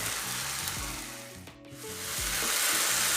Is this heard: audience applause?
no